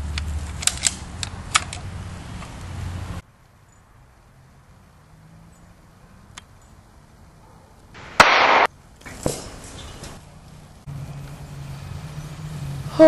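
A BB gun fires once during a backyard BB gun fight, a single sharp crack that stands out after a stretch of near quiet, with rustling and handling noise before and after.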